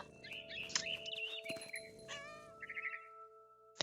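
A cat meows and caterwauls in What Remains of Edith Finch, several drawn-out, wavering calls close up over a soft game soundtrack, with a short bright sound near the end.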